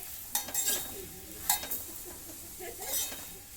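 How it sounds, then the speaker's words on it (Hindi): A paratha fries in a little oil in a pan as it is pressed down, giving a soft, quiet sizzle broken by several sharp scraping and clinking bursts. "तेल डाल के जैसे पराठे को हम तलते हैं वैसे ही तलेंगे और थोड़ा सा दबा दबा के तलेंगे"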